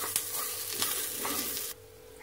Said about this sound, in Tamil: இதில் தேங்காய் தேங்காவும் நல்லா வதக்கிடலாம் கொஞ்சம் கலர் மாறுற வளர்க்கும்